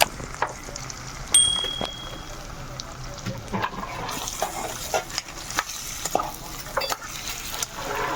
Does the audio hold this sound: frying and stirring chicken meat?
yes